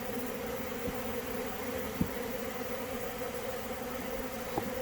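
Honey bees robbing a beehive make a steady, dense buzz throughout, with a few faint clicks over the constant hum.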